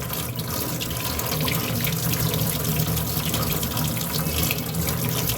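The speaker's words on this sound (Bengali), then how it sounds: "নতুন আলু তো এগুলো এভাবে ধুলে ধুলেই না অর্ধেক খোসা উঠে যায়" New potatoes are scrubbed under a running kitchen tap, with a close, loud, steady rush of water and splashing that continues without a break.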